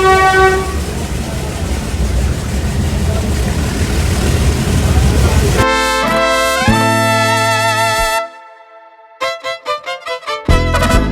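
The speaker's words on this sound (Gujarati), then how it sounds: "તો હવે આપણે ટ્રેનમાં ચડી જઈએ." A passenger train at the Junagadh station, bound for the Gir region, sounds its horn in loud sustained tones, then gives several short toots. Steady rumble and crowd noise run beneath.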